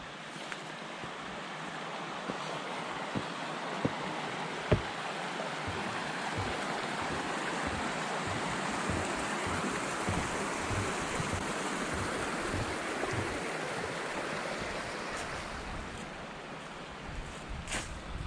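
Bear Creek rushes steadily at a backcountry campsite along the Foothills Trail, a broad, continuous wash of flowing water with a few faint knocks and clicks, no talking.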